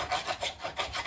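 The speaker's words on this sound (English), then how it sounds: "you may be wondering what I'm doing, all that scraping and going on there right there" A metal spatula scrapes a hot griddle next to mashed baby red potatoes, giving rhythmic rasping strokes, about eight quick back-and-forth passes, close and fairly soft.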